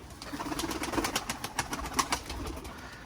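Pigeons coo steadily in a rhythmic series of soft, close calls, with a young chick venturing out for the first time among them on a humid, rainy day.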